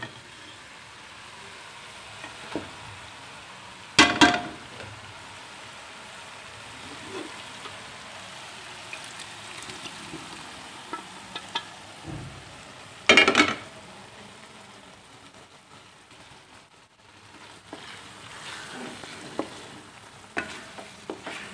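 Meat frying in a browned spice masala for a home-style aloo gosht curry, soft steady sizzling throughout, broken by a few louder stirring scrapes and clatters of the spoon against the pot.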